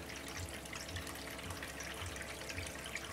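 Water from a Topsflo solar pump runs steadily into a pail, a continuous close splashing trickle with no voices.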